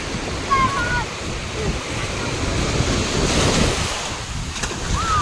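Ocean waves surge and wash steadily onto Mumbai beach under gusting wind that buffets the microphone, with voices faintly in the background.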